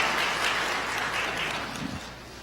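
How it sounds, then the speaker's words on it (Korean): A congregation at a Sunday church service breaks into sustained, even applause to welcome a returning member, a dense crowd of clapping hands filling the whole short stretch. "여러분들 환영의 박수 부탁드리겠습니다."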